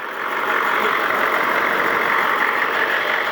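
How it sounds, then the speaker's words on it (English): Truck engine running steadily with the hood closed, a continuous even broadband drone holding level for the whole stretch with no talk over it. "You can barely even hear the truck running."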